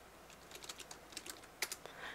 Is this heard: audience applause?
no